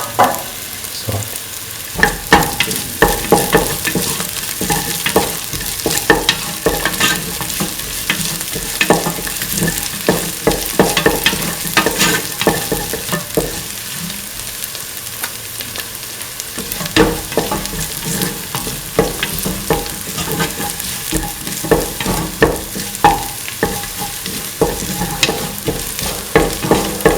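Ginger pieces and duck meat with salt sauté in a pan, a steady loud sizzle broken by frequent scraping stirs and clattering spatula strokes throughout.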